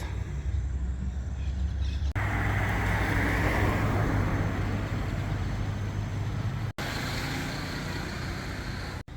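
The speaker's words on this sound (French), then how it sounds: "il stoppe la voiture au milieu de la route" A car idling after stopping in the middle of a road in the Amazon near Parintins, a steady close engine drone with low hum and road noise throughout.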